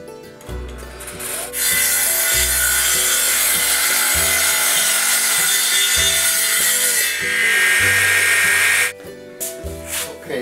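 A handsaw cuts a piece off a length of wood in two long bursts of loud, close, rasping strokes, each run preceded by lighter taps and scrapes and followed by brief handling noise.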